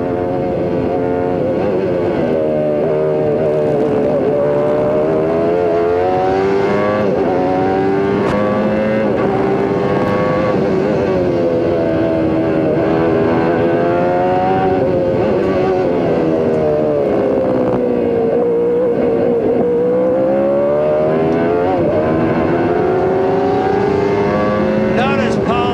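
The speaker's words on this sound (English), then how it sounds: "It's a V8 engine." CART Indy race cars with V8 engines at the 1994 Mid-Ohio race, a loud continuous roar of engines rising and falling as the cars pass and shift, heard steadily throughout.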